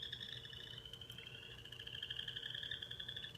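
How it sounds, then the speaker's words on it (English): Frogs croak outdoors at a front-yard pond, a faint, steady trilling chorus that runs without a break and sits alone with no voices. "That is a frog in our pond out front."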